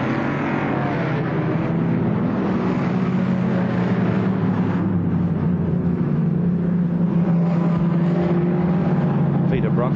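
Holden Torana XU1 racing cars roar around Warwick Farm during a 1973 sports sedan race, a loud continuous engine drone under a commentator's talk.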